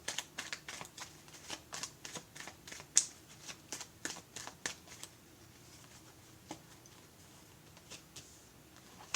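A deck of playing cards being shuffled during a card reading, a run of quick papery riffles and flicks, close and clear, with quieter pauses toward the end.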